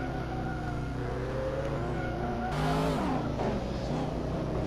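A Hot Wheels race car in a video game holds a steady high-pitched engine drone at top speed, with a brief surge partway through and no talk.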